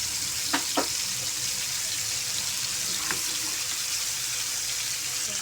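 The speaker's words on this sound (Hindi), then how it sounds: "हल्की आंच पे हमने इसको फ्राई होने देना है ताकि ये अंदर से अच्छी तरीके से फ्राई हो जाए" Masala fish fries in oil over a low flame, making a soft, even sizzle up close, with a couple of faint clicks and light scrapes along the way.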